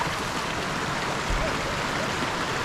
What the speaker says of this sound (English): We are literally walking over a waterfall.